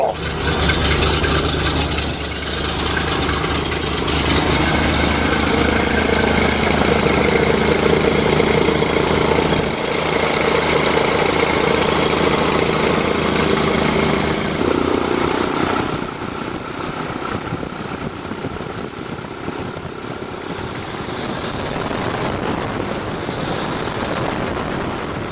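A Chevy big-block car engine, revived after dying over winter, runs at a steady loud idle with a dense rumble, dropping slightly in level partway through and carrying on evenly without speech.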